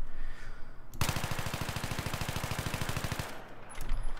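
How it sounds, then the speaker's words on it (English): F2000 rifle in Battlefield 3 fired on full auto, one continuous rapid burst of about two seconds with tightly spaced shots, loud and close, preceded and followed by softer game background sound. "I'm just going to totally just let it rip on auto fire"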